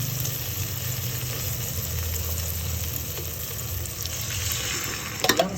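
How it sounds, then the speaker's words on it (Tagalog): Youngstown sardines frying in a pan, a steady, close hiss of sizzling oil that carries on unbroken, ending with a few sharp clinks. "Lagay na natin yung ating sardinas."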